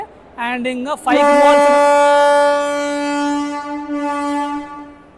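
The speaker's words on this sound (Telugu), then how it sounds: "మాట్లాడుతుండగానే హాంకింగ్ కొడతాడు అనమాట." A passenger train's horn blasts at a railway station, one long, loud, steady honk held for about four seconds after a brief burst of speech and clatter.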